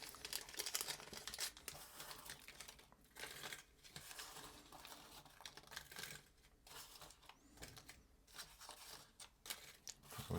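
Plastic bag crinkling and rustling as cheap plastic radio components are packed back into it at a workbench, a steady close run of crisp crackles and small rattles throughout, with no talking.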